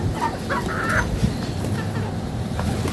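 A live chicken, brought for tinola, gives a short burst of clucking early on against a murmuring outdoor background.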